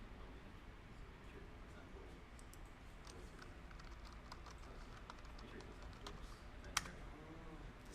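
Soft, rapid tapping of a computer keyboard, typing in Illustrator and Photoshop, faint and steady, with one sharper click near the end and no talking.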